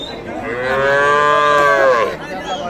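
A single long, loud moo from a cow at a cattle market, drawn out for about a second and a half, close by with faint crowd murmur behind.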